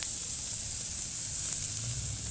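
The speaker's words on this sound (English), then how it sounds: "We're getting everything happening real nice. And we are just going to let that sizzle." Flank steak searing in hot oil in a pan, giving a steady, close sizzle with a bright crackling hiss that holds even throughout, with no voices over it.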